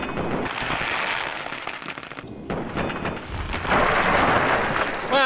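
Gunfire aimed at giant ants in the video game Fallout 3, a sustained run of loud, dense crackling blasts with a brief dip midway before the firing swells again.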